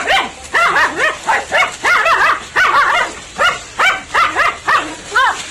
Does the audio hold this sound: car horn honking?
no